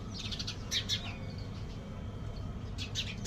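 Mynas and sparrows chirp in short bursts of bright, clustered calls at moderate distance, pausing midway before another flurry, over a steady low background hum.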